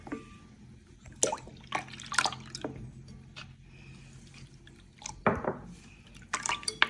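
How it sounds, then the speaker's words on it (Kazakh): Milk poured into a mixture of ayran and tan for Kazakh bidai kozhe, irregular liquid splashes and drips at close range, intermittent and moderately loud. "Сүт құямыз."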